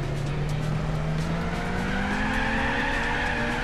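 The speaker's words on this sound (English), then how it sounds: "Stop it with the wheel spin." Gran Turismo 4 Suzuki concept race car spinning its wheels, a long loud tire squeal with rising pitch over a steady engine drone, close and continuous without talk.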